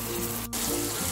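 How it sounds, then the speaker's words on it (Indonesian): Water, 100 ml, poured into hot, dried-out spice paste frying in a pan: a steady broadband sizzle and hiss filling the clip, with a brief dip near the middle. "Sekarang akan saya tuang air. Saya kasih air 100 ml ya."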